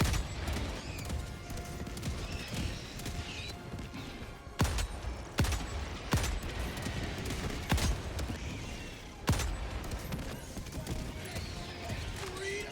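Rapid gunfire from a weapon in the video game Helldivers 2, dense bursts of shots running throughout with several sharp louder cracks standing out, mixed with game effects and voices talking over the action.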